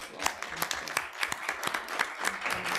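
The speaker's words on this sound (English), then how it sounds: "Let's give them all a big round of applause." An audience at a Women's History Month roundtable breaks into light applause. Sparse, fairly faint claps patter steadily for a few seconds.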